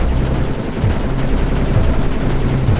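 Rapid repeated turret gunfire from the game Mindustry, a dense continuous stream of shots rattling loudly throughout.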